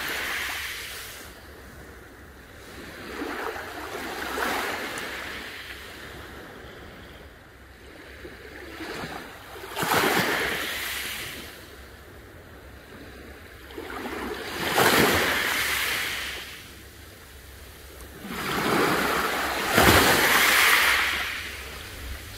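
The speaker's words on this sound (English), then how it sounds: "Listen to the water." Waves lapping at the lakeshore of Wheatley Provincial Park in autumn, each wash swelling and receding in slow regular surges about every five seconds, close and otherwise quiet.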